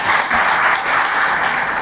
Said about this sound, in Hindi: तो उनके लिए भी जोरदार ताली बजाइए।